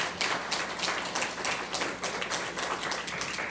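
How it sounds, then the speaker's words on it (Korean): A church congregation bursts into applause, a dense continuous patter of many hands clapping at moderate distance for several seconds with no talk over it. "우리 박수로 한번."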